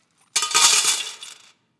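Coins tumble out of a bag of money in one short burst, a bright jingling cascade that starts sharply, peaks and trails off within about a second, close and alone against silence.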